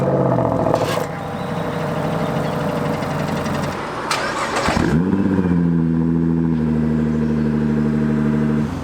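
A Nissan R35 GTR engine idles with a loud, deep drone, then blips sharply midway and settles back into a steady, slightly higher idle, heard up close with no talk.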